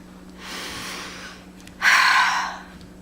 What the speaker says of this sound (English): here's me breathing in and out